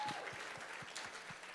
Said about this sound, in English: Let's give you a big round of applause for being here this Shabbat.